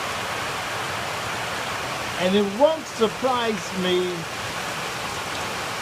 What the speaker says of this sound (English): it is raining very hard